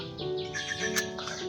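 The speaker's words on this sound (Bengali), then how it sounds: "তারপর আরও অনেক রকমের পাখি ডাকছে" Several kinds of birds call and chirp together in the morning, with a distant cuckoo among them, steady and moderately close with no talk.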